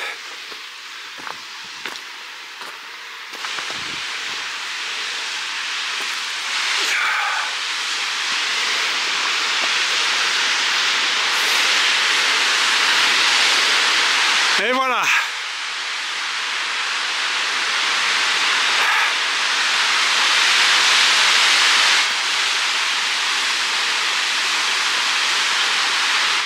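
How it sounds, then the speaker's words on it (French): A waterfall's steady roar in Kyrgyzstan builds to a loud, continuous hiss that fills the scene, with a short spoken phrase and a brief whistle-like tone midway. "Et voilà la cascade les amis."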